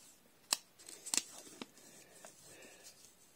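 A curry paste packet being peeled open with a few sharp crinkly tears and rustles, quiet and close, with no talk.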